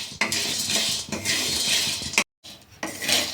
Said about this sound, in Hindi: बस लगातार चलाते हुए 2 से 3 मिनट इसे भून लीजिए